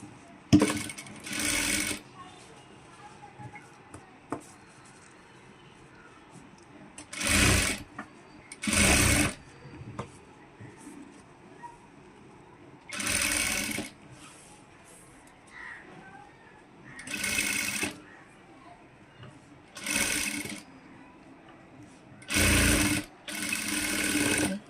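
A sewing machine stitches a blouse sleeve on a princess-cut blouse in short repeated bursts of rapid whirring, separated by quiet pauses, close and clear.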